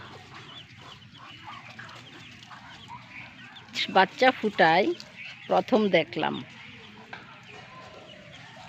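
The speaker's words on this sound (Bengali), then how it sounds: "চীনা হাঁস ও বাচ্চা" Chinese ducks with their ducklings call in a brief cluster of loud, close, nasal quacks and squawks after a few seconds of quiet background, mixed with a person talking nearby.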